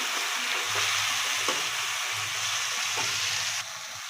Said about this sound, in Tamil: பார்த்திங்கன்னா வெங்காயம் நல்லா வதங்கிச்சு. இந்த டைமில் தக்காளி போட்டுக்கலாம்.